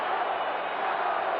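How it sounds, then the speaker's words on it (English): Hockey crowd at a 1979 Toronto Maple Leafs playoff game against Montreal, chanting in unison as a dense, continuous roar of massed voices filling the arena. "the crowd sets up that chant again. Go, Leafs, go."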